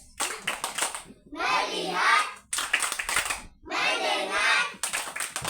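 A class of children performs a rhythmic focus clap, bursts of quick, sharp, tightly grouped hand claps alternating with loud chanting in unison, close and bright in a classroom.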